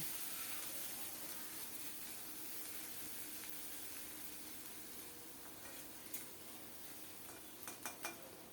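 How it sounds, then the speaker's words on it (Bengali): Onion paste frying in a pan with a soft, steady sizzle and hiss, quiet throughout, then a few sharp clinks of a spatula or spoon stirring against the pan near the end. "পেঁয়াজ বাটা দিয়ে ভালো করে নেড়ে চেড়ে পেঁয়াজটা ভেজে নেব"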